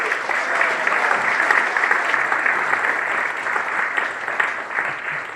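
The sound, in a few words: audience applause for Lightfoot Days Festival board members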